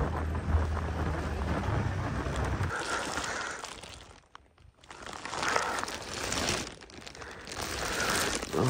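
Heavy rain drums on a motorcycle rider's helmet during a morning ride, a loud, close, steady hiss that dips briefly midway before returning at full strength, with no talking.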